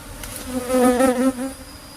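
Apis cerana bees buzz in a dense, droning swarm around their hive, a close, steady hum that swells slightly in the middle.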